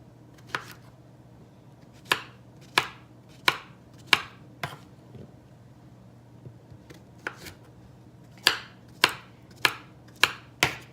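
Knife chopping vegetables for ratatouille on a cutting board, crisp evenly spaced thwacks in short bursts with pauses between, close and clear over a low background hum.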